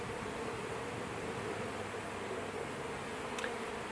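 Honeybees swarm around a trailer during a removal in Auburndale, Florida, making a faint, continuous buzzing drone outdoors that holds steady throughout with no voices.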